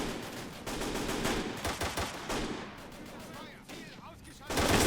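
Gunfire rattles through a World War II battle in the Totaler Krieg 1939-45 mod, with dense bursts of rifle and machine-gun shots, booming impacts and shifting loud and quieter stretches.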